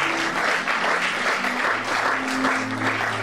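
An audience at a Bible teaching on Genesis claps together in a dense, continuous burst of applause, fairly close and even throughout, with no speech over it.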